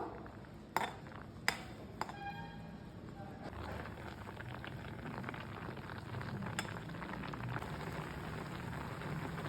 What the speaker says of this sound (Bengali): পিঠেগুলো দিয়ে দুধের সঙ্গে আমি দুই মিনিট মতো ফুটিয়ে নেব